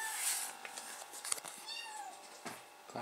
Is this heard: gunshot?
no